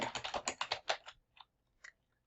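Rapid, close keystrokes on a computer keyboard while typing a letter in Google Docs, a dense burst of clicks for about a second, then a few isolated taps after a pause.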